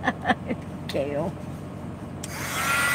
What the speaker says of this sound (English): I'm gonna use my heat tool a second